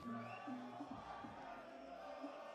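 Crowd noise from fans of both sides at the Anthony Joshua versus Francis Ngannou boxing weigh-in, a steady roar of voices and shouts filling an arena throughout, with some distinct voices rising above the din.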